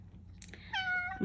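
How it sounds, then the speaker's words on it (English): A house cat meows once close by, a short rising cry followed by a longer drawn-out tonal meow, heard alone in a quiet indoor room. "cat thinks she always needs to make an appearance."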